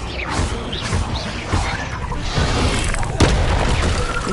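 An Incendio fire spell blasts in a Harry Potter video game, giving a dense roaring burst with repeated thumping booms and crashes and a sharp hit near the end, all loud and close.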